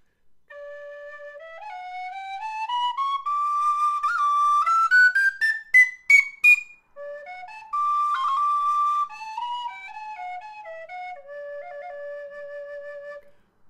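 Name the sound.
Clarke Sweetone tin whistle being played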